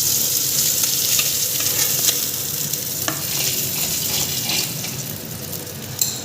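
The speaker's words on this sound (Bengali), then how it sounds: "আমি এই মাছ ভাজার পড়াতেই একটু তেল দিয়ে দিচ্ছি দু চামচের মতন জিরা দিচ্ছি" Steady hiss and crackle of cumin seeds frying in hot oil left from frying tangra fish, with light stirring scrapes and a small clink near the end.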